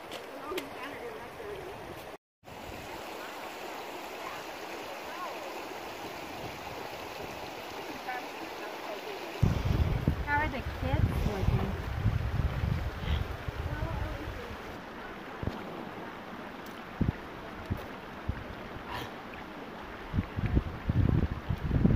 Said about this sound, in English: Forging the rapids at Forest Falls.